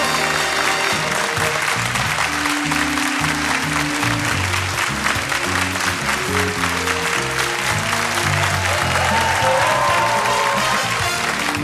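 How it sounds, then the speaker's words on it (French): Loud, sustained applause from an audience at an international dictation contest final, with music playing underneath the whole time. "J'aimerais ça qu'on puisse les applaudir à tout rompre"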